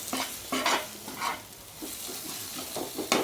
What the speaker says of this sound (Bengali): এবারে মশলাটাকে আমি ভালো করে কষিয়ে নেব।